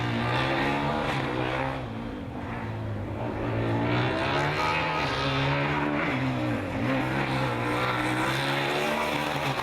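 A GFR Formula Student race car runs the endurance course at Formula Student Germany 2016, its engine whining loud and sustained, rising and falling in pitch as it goes through the main straight, with no voices over it.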